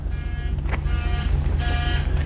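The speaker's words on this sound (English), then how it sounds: "it's got a buzzer going off because we don't have everything set on the wheelchair lift" A 2021 Ford Metro Link shuttle bus warning buzzer, set off by an unset wheelchair lift, sounds in steady tonal bursts, pausing briefly twice, with a low engine-like rumble underneath throughout.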